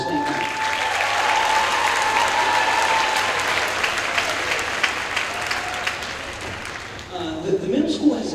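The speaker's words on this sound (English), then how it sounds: "So let's give them a round of applause for staying back." An audience at a school orchestra spring concert claps in a dense, sustained round of applause that fades after several seconds, followed by a voice speaking amid scattered noise.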